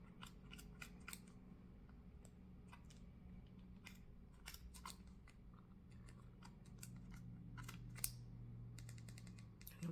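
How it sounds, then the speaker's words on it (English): Scissors snip through yarn wrapped on a pompom maker, a quiet series of sharp, irregular clicks and cuts in quick bursts, close and alone. "Now we're going to cut this other side."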